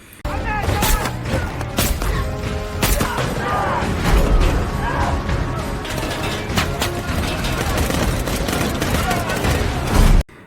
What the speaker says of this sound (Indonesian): Ana yang mengambil jalur belakang sebagai akses keluar mulai diserang dengan tembakan.